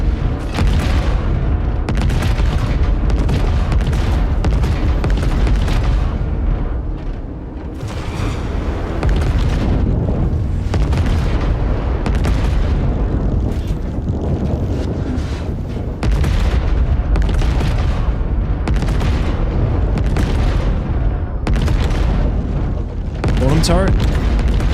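Ship turret firing in the space game Star Citizen, heavy booming shots repeating steadily with dense blasts and rumble throughout, loud and close.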